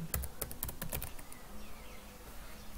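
Keys clatter on a computer keyboard in a quick burst of uneven taps during the first second and a half, then fade out, leaving only a faint low hum.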